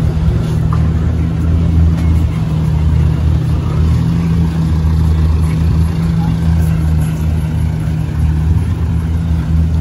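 McLaren supercars at a gathering in São Paulo, Brazil, produce a steady, loud, low engine rumble that holds throughout, with voices murmuring alongside.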